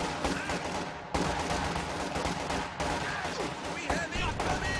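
Satchel charges explode and gunfire rattles in a Company of Heroes 2 one-on-one match, a dense, loud wash of blasts and shooting running throughout. A commentator talks over it.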